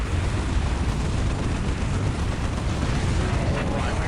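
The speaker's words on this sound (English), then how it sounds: "And a Land Raider Prometheus opening fire." A Land Raider Prometheus opens fire in a Warhammer 40,000 Dawn of War battle, loud dense continuous blasting and booming explosions filling the whole stretch without a break.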